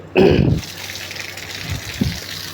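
A tap bursts on with a short gush of water, then a steady, softer stream keeps running.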